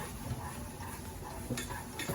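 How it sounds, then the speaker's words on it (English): A spoon stirring bonito dashi granules into a pot of boiling water, heard as faint scraping and light clinks against the pot over a quiet bubbling background. "add this dashi or bonito flake granular into the boiling water, stir it"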